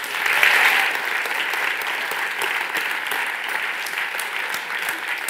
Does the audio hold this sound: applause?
yes